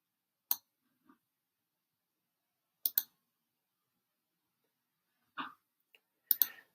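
A computer mouse clicking during bookkeeping software work, with a few isolated sharp clicks, some in quick pairs, separated by long quiet gaps in a silent room.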